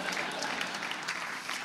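Audience applause at a startup demo day in Chicago, a dense continuous wash of many hands clapping, moderately distant and steady for a brief stretch.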